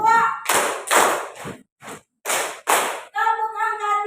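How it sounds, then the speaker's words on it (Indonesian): A classroom of schoolchildren performs a rhythmic number-clapping routine, crisp group claps landing in short counted bursts between spoken chanting. "Tepuk angka 1. Tepuk angka 2."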